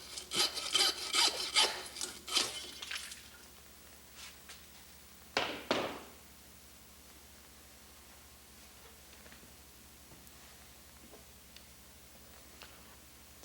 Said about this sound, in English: we want to take the saw and stay about a ½ inch away from that, cutting on an angle approximately like so